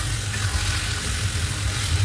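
Chicken pieces hiss and sizzle steadily in a hot pan, a dense continuous frying sound heard close up with no talk.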